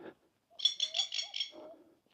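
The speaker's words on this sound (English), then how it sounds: "yeah, you just hear birds." A single bird gives a short call of rapid, pulsing chirps, clear and fairly close against an otherwise quiet background.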